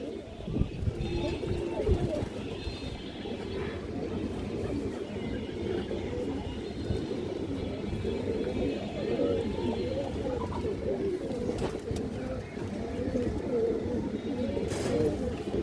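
Black-necked pigeons, a breeding pair, coo steadily and close by, their low rolling calls running throughout while people talk over them.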